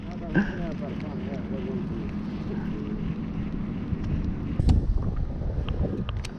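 Outboard motor on a small john boat on a lake runs steadily at full throttle in reverse, a constant close drone mixed with wind buffeting on the microphone.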